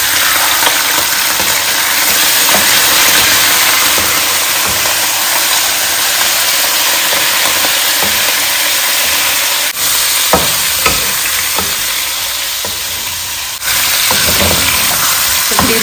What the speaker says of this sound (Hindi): बाकी जो ऑयल बचा है उसमें मैं डाल रही हूँ अपनी भुनी हुई चिकन।